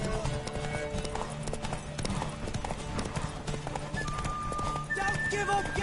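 Horse hooves clip-clopping at a gallop during a race in The Witcher game, rhythmic and close, with a whinny near the end and voices shouting encouragement over the hoofbeats.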